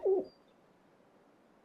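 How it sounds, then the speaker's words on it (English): A pigeon in the video game Trails Into Reverie gives one short, low cooing call near the start, followed by quiet background ambience. "Pigeons."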